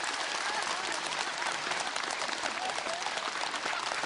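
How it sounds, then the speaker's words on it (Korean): A seated studio audience at a televised laughter lecture claps together in sustained, dense applause that fills the whole stretch evenly, with no voices over it. "제가 물 마시면 쳐다보지 말고 박수 한번 쳐주세요"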